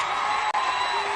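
A large crowd at an outdoor public speech roars and cheers in a steady, dense wash of noise, with a thin high tone ringing over it and a brief dip partway through.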